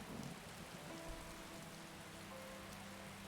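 Steady rain falls in the Skyrim video game, a soft, even, continuous patter and hiss at low level with no voices.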